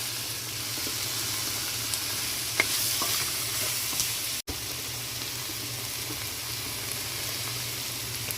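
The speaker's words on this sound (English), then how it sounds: "I'm going to add the smoked herring now to let everything cook together" Smoked herring and bitter melon cooking together in a pot, a steady close sizzle with occasional stirring scrapes and one brief cut-out midway.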